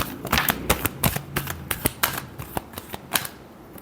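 Tarot cards shuffled by hand in a quick run of crisp riffling slaps and flicks, about a dozen sharp bursts over a few seconds, close and fairly quiet with no voice.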